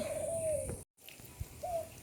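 Pigeons give two soft, low coos with a short silent gap between them. The birds are close by, and no one speaks.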